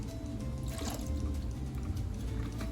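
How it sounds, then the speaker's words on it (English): Milk poured into a frittata mixture with onion and sausage crumbles, a soft continuous liquid trickle with light dripping, steady and close, with no talk. "pour our milk in."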